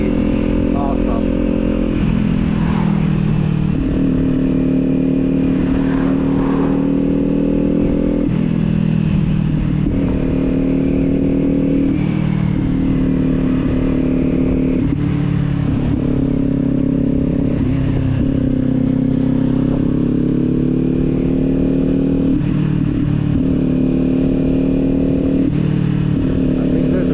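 Kawasaki motorcycle fitted with a Leo Vince aftermarket exhaust, ridden along back roads, a loud, continuous engine drone that rises and falls as the throttle shifts, heard close up throughout.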